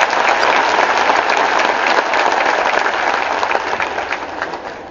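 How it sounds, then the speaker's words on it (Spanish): A crowd at an outdoor political rally in San José del Rincón claps in loud, sustained applause that fills the whole moment and slowly fades toward the end. "El aplauso para ustedes."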